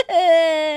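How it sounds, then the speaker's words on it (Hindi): A loud, sustained crying wail in a dramatized Hindi story, one long tonal sob rising and holding steady, close and clear with no other sounds. "जोर जोर से रोने की"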